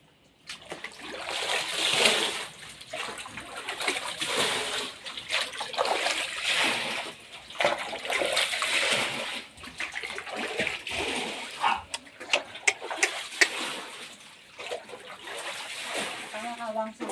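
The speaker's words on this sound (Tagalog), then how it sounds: "Naglilimas pa kami." Floodwater being bailed out of a flooded house at night, with repeated splashing and sloshing water as people talk throughout and a dog barks.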